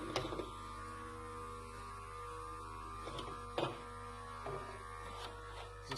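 A smoke machine runs with a steady electric hum and buzz during an EGR intake leak test on a 2012 Nissan Navara V6 diesel, with a few faint clicks and knocks over it, close and quiet.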